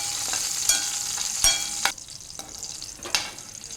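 Green chillies frying in a pan, a steady bright sizzle with a few sharp pops and crackles as they are stirred, loud and close with no voices.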